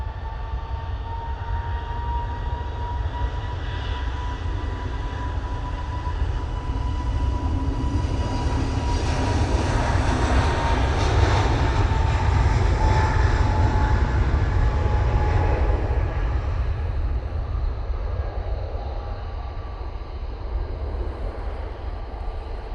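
An Airbus A320neo takes off at Manchester Airport, its engines a broad, steady roar that swells toward the middle and eases off, heard from a distance with no speech.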